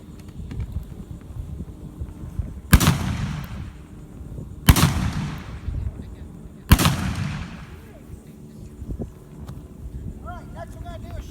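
A single action Colt 45 revolver fired outdoors at a Fort Clinch Spanish-American War weekend event, three loud sharp shots spaced about two seconds apart, each with a trailing echo, over a murmuring crowd.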